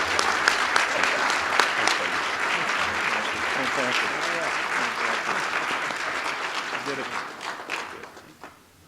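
Audience at a Prince George's County State of the County address breaks into sustained, dense applause after the speech, loud and even before tapering off toward the end, with voices faintly mixed in.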